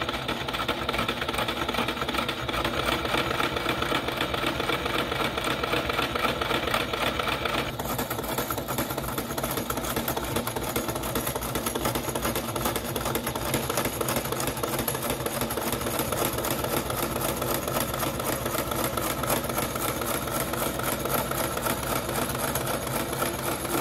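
A sewing machine stitches the top and bottom edges of a fabric 3D face mask, running in a steady, fast mechanical rattle throughout, close and moderately loud, with a brief change in tone early on and no talking.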